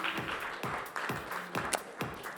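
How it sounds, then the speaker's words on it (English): Audience applause for a guest called on stage at a corporate conference, a steady wash of clapping with sharp individual claps standing out. "A big, big round of applause for Ms."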